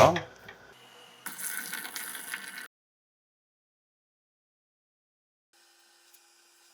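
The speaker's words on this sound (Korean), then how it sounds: "조금씩 쫄쫄쫄. 어느 정도 흘러 넘치고 있다." Water trickles and overflows in a kitchen sink, heard as a brief, moderately loud rush of running water lasting about a second before the sound cuts to near silence.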